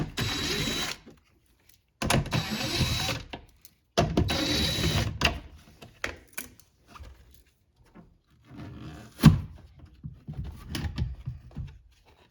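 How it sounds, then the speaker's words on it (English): A power driver takes four 10mm head screws out of the front door speaker on a 2021-2026 Toyota Sienna. It gives several close, loud whirring bursts separated by pauses, with clicks and handling noise. "and then remove the 4 10mm head screws"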